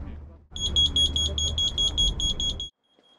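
A carbon monoxide alarm going off inside a camping tent during a test with a burning heat source sounds as rapid, piercing, high-pitched beeps in a steady pulsing pattern over a low rumble, then stops abruptly.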